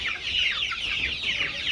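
Chickens on a commercial poultry farm cluck repeatedly, close and loud, in overlapping rising-and-falling calls with no pause and no talk.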